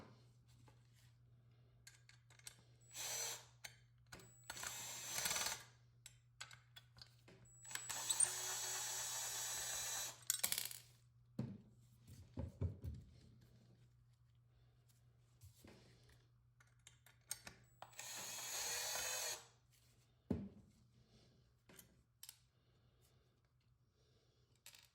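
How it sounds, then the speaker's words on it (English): A small electric screwdriver or drill removes screws from the actuator of a Liftmaster automatic garage door lock, with several short whirring bursts of a few seconds each, separated by quiet pauses, clicks and handling noises over a steady low hum. "I'll try removing the two screws in the back that hold the actuator to see if that somehow releases some of the pressure"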